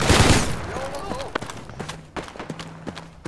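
Gunfire in the video game Project Reality during a fight around a house, opening with a loud close burst and followed by scattered sharper shots, while people talk over it.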